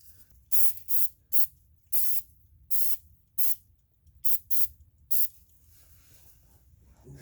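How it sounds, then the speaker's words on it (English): Nine short bursts of spray from an aerosol can of cleaner during an oil change on a 2013 Kia Rio, hissing in quick irregular puffs, close by, with quiet rustling between them. "we're gonna spray it off with some whip cleaner to clean everything off"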